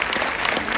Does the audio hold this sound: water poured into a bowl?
no